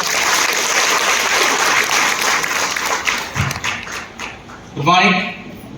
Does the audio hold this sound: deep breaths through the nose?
no